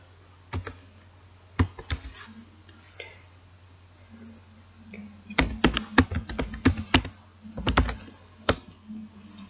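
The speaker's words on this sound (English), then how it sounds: "If I type x dot," Keys clack on a computer keyboard in scattered single taps and then a quicker burst of typing, close and fairly quiet, with a low hum underneath.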